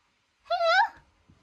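A cat meows once outside a front door late at night, a close, clear, drawn-out call with a slightly wavering pitch, followed by faint rustling.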